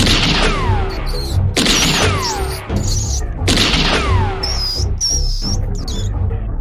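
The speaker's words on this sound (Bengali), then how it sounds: "রিভলভার থেকে গুলি ছুটতে লাগলো, এলো পাথারি গুলি" Revolver shots fired wildly in a horror audio drama set in a narrowing rat-hole passage: a string of loud, close bangs with ringing decays, spaced irregularly, with thin high squeaks between them.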